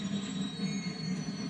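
Brakes squeal on a train simulator at the Port Adelaide National Railway Museum, a continuous high whine layered over a low rumbling drone, fairly loud and steady, with no talking.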